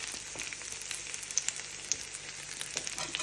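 Eggplant for tortang talong frying in a pan, a steady bright sizzle with small pops and crackles scattered throughout, close and alone without any talking.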